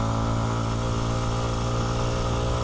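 A 2026 Kawasaki KLX230 Sherpa S dual-sport motorcycle with a small single-cylinder engine chugs steadily uphill at low revs in third gear, a loud, even, close-up drone with no talk over it.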